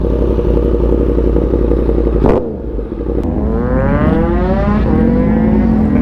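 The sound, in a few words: motorcycles revving on a night ride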